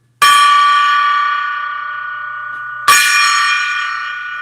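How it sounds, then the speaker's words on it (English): A golden gong is struck twice, each hit blooming into a bright, shimmering ring that sustains and slowly fades before the second strike renews it. "Let me get the golden gong, and I want you to listen. It's very relaxing. It continues to ring after I hit"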